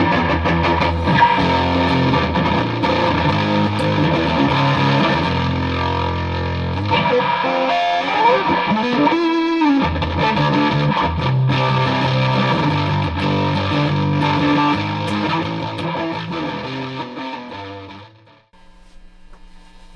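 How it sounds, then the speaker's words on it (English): A Les Paul Special double-cut electric guitar drives hard through a RAT distortion pedal, playing thick, sustained distorted chords and riffs loudly and continuously, with a short pitch-bending passage midway before the sound fades out near the end. "Now we can try a rat distortion or a little rat."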